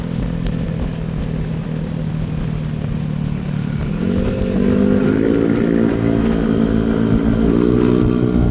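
A Yamaha Gravis motorcycle riding on a road, its engine droning steadily close by and rising in pitch as it accelerates midway.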